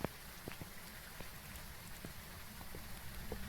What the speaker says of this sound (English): I got rain this time, so luckily the temperatures will be a little bit more obvious for us as well.